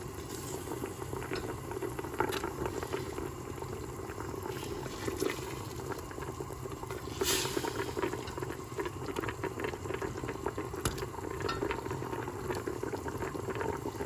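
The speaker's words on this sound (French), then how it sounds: "je vais placer mes morceaux de fenouil dans la marmite" Fennel pieces go into a pot of nearly cooked meat for a fennel and pea tagine, and the pot bubbles at a steady simmer with a few soft knocks and splashes throughout, with no voices.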